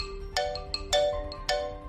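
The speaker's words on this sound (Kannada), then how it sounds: "ಅಷ್ಟರಲ್ಲಿ ಅವಳ ಫೋನ್ ರಿಂಗ್ ಆಯ್ತು" A phone ringtone chimes in bright, repeated electronic notes at a steady rhythm, close and clear with no speech.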